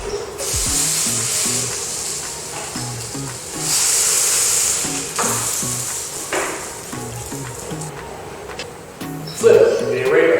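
An arepa frying in a spoonful of oil in a pan, a steady sizzle and hiss with occasional louder bursts, heard under a speaking voice.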